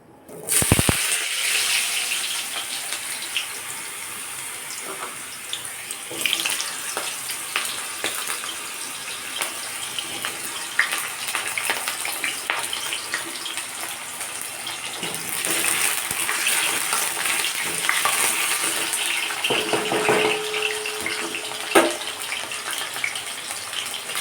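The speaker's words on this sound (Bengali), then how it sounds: "তেলটা আমার ভালোভাবে গরম হয়ে গেছে তো আমি এর মধ্যে আমি এবার আলুগুলো দিয়ে দেবো" Potatoes, dusted with turmeric, dropped into hot oil and frying, a loud steady sizzle with a hissing, gushing texture that runs unbroken and swells slightly in places, with occasional small clinks.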